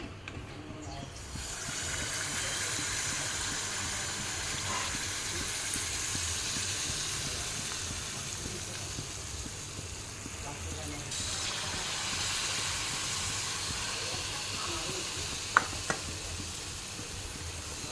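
Food fries in hot oil with a steady, quiet sizzling hiss that swells slightly partway through, while a person speaks over it.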